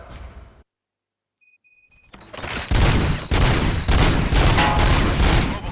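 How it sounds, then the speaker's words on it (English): Gunfire in the Robocop Rogue City video game bursts in after a short silence and a few electronic beeps, a dense, loud fusillade of rapid shots and impacts that keeps hammering for several seconds. "Gunshots? What's going on?"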